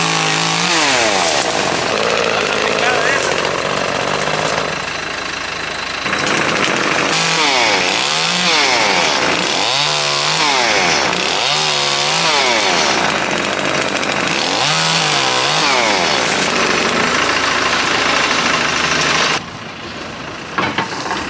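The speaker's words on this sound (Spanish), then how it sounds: "nomás están cortando unas ramas aquí para que pueda acabar la máquina" A chainsaw cuts tree branches to clear the way for earthmoving machinery, loud and close, its engine revving up and down in repeated cutting bursts before idling near the end.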